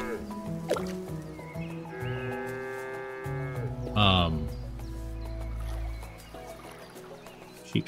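Cows moo in the video game SCHiM, low drawn-out lowing calls rising over a game's tonal music and effects while a player talks.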